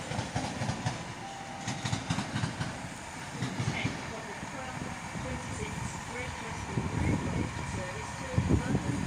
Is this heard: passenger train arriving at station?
yes